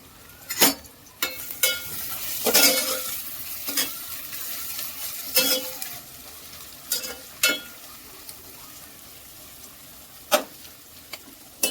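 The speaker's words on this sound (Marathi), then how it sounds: "कांदा चांगला ना आपल्याला कुरकुरीत करून घ्यायचा आहे, असा ब्राऊन कलरचा" Onions frying in a pan over medium heat until crispy and golden brown for paneer biryani, a continuous sizzle broken by repeated sharp scrapes and clatters of a spoon stirring against the pan, close and without talk.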